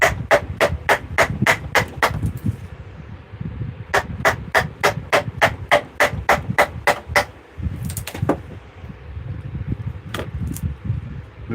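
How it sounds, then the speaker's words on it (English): A hand wood gouge pares material from a workpiece in a fast run of sharp, evenly spaced strikes, pausing, then another quick burst and a few scattered hits, over a low background rumble. "you can remove a fair bit of material fairly quickly with the old gouge"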